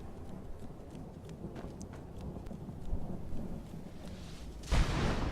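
Thunder rumbling through the Soul Cairn in Skyrim, a low steady roll with rain-like hiss, then a sudden louder crack of lightning near the end, heard alone without talk.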